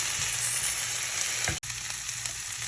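Minced garlic, four or five cloves, sautés in a pan with a steady, close crackling sizzle that cuts out for an instant midway, then resumes.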